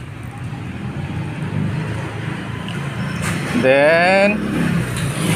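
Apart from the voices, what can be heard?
powerful big motorcycles revving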